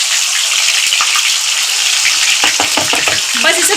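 Raw chicken pieces going one at a time into moderately hot cooking oil, sending up a steady broad sizzle that swells with new bubbling bursts as each piece lands, close and loud.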